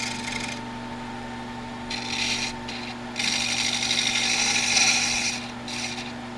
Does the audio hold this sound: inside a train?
no